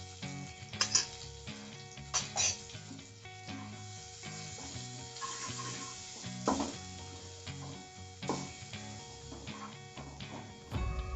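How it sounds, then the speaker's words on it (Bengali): Onions with a little salt and turmeric sizzle and fry in a pan, a soft steady crackle broken by several clinks and scrapes of stirring utensils. "পেঁয়াজটাও ভাজাও হয়ে যাবে আবার একটু সিদ্ধও হয়ে যাবে"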